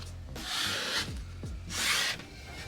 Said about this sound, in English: I've got a squeegee that you would typically use for a wrap, and I'm just gonna try to, you know, make sure that we're getting some pressure